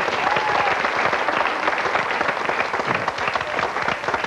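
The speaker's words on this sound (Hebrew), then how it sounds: "מגיע למחיאות כפיים לשתי הזמרות המדהימות האלה" A studio audience at a taverna-style music show gives two female singers a dense, loud, sustained burst of clapping.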